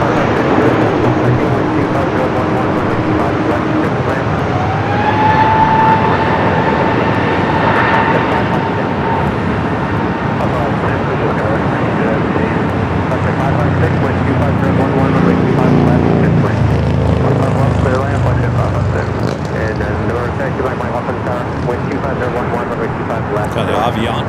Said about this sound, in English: flight 452, the A380 Super coming in from Munich